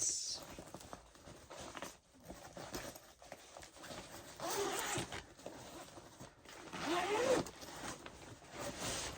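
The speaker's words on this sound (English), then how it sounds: "There's a zipper pocket on that side." A zipper on a bag's side pocket is opened and closed in several rasping bursts at close range, with quieter handling rustles in between.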